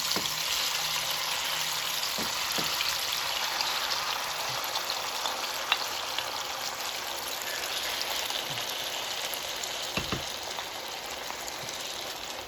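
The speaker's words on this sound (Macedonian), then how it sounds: "Сега ќе истурам од пиперот" Peppers sizzling in hot oil in a pan for a white kidney bean dish, a steady broadband crackle that runs unbroken throughout with a few brief clicks and knocks, and no voices.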